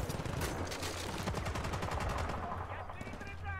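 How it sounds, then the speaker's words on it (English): Rapid automatic gunfire and repeated shots from the video game Battlefield Bad Company 2, loud and continuous throughout, with game voices and a player talking over the shooting. "Who's shooting me through here, though?"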